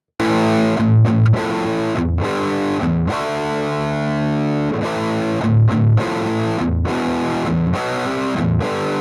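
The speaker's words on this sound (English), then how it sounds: "there's another part of this that I want to show you, which is the very distorted guitars" Heavily distorted electric guitars captured with two microphones, a thick, sustained wall of saturated chords with short breaks between phrases, loud and close with no talk.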